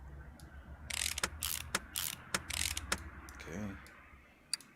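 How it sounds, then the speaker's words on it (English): A ratchet wrench tightening bolts onto a car in Car Mechanic Simulator 2018, a series of close, crisp clicking bursts in an uneven rhythm, with a short whirring mechanical sweep near the end. "I could screw bolts behind the tire"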